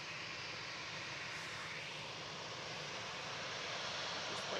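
Ryanair Boeing 737-800 jet at Manchester Airport, a steady, broad engine roar held at an even level throughout, fairly distant, with no voices.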